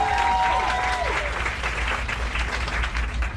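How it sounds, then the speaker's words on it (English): An audience at a Los Angeles health event applauds a panel, a dense, continuous sustained clapping from a crowd, with a brief tonal slide in the first second. "let's give them one more round of applause"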